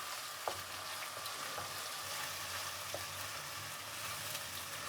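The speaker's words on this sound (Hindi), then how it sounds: "इसको फ्राई करेंगे 2 मिनट।" Onions with ginger-garlic paste fry in a pan for an aloo gajar matar sabzi, giving a steady, soft sizzle with faint crackles and a few light stirring clicks throughout, no talking.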